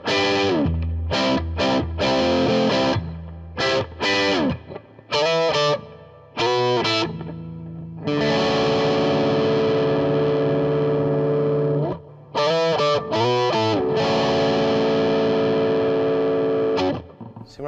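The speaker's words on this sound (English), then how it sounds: "you can still hear a lot of clarity even though there's a little bit of fuzz" A 2016 Gibson Les Paul Standard electric guitar with a light fuzz distortion, played in short chopped phrases and then longer sustained chords, loud and close with clear note definition.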